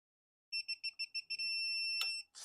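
A 3/8 Craftsman click torque wrench with a digital torque adapter set to 20 foot-pounds gives off a run of about seven short electronic beeps, then one long steady tone, a sharp click and a brief rustle at the end.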